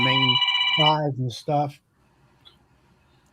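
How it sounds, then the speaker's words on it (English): A phone rings with a bright, repeating electronic ringtone during the first second and a half, overlapping voices in a casual online beekeeping chat, then the room goes quiet. "That was my phone."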